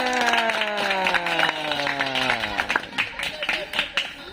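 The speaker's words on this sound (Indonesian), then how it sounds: "Iya, tepuk tangan." Children clap their hands in a classroom, scattered claps rising after a sustained tonal sound fades, moderately close.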